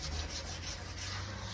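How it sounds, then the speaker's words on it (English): Hand sanding of a Toyota Land Cruiser body panel before primer gives a continuous, close rubbing scrape with an even back-and-forth texture and no voices. "Just make sure I sand it down nicely."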